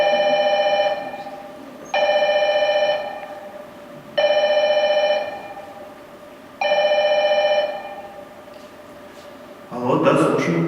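A telephone rings in four even, repeated bursts with short pauses between them, loud and near, followed by a brief clatter as the phone is picked up.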